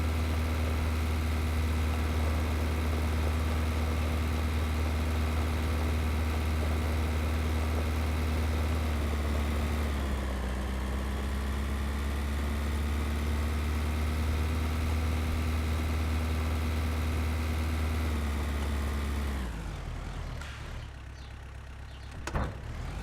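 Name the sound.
tractor engine running in Pure Farming video game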